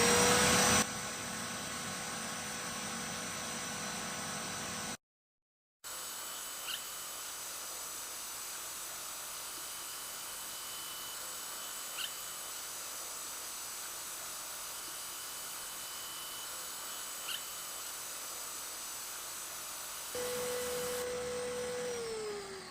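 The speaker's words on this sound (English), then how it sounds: "The vacuum cleaner consumed an average of 900 continuous watts" A vacuum cleaner powered by a BLUETTI AC70 power station runs with a steady, even whine for most of the stretch. A brief silent gap breaks it early, and a tone shift comes near the end.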